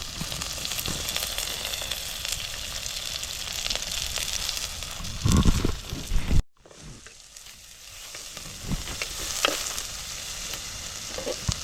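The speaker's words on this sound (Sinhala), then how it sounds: "ඊළඟට අපි මේකට අපි ගෙනාව සේර ටික, බීලූණු, රම්පෙ ටික මේ ටික ඔක්කොම දාලා හොඳට දුඹුරු පාට වෙනකන් ටෙම්පරාදු වෙන්න දෙනවා." Lemongrass, shallots and pandan leaves sizzle and fry steadily in hot oil for a village-style black pork curry, a continuous close crackle with stirring, briefly cut off mid-way before resuming more quietly.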